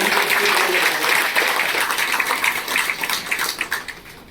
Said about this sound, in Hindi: मैं चाहूंगा दोनों के लिए जोरदार ताली बजाएं।